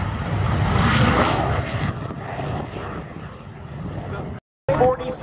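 A North American F-86 Sabre jet with a J47 turbojet engine passing overhead at an airshow, a broad roar that swells and then fades, with a voice over it and a brief cut near the end.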